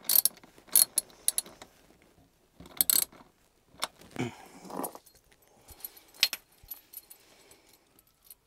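Ratchet wrench clicking while tightening a battery terminal connection in a DIY 12v campervan electrical setup, short bursts of metallic clicks and clinks close by, separated by quiet pauses.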